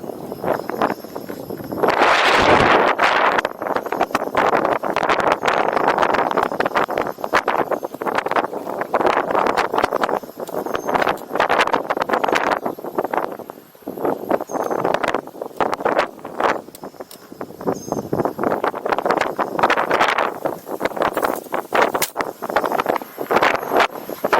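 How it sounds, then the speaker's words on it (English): Heavy wind buffeting the microphone while riding a KingSong S18 electric unicycle outdoors, gusts roaring in uneven surges with brief lulls, no voices. "when you're riding into it, you create your own wind on top of it, so it's pretty noisy"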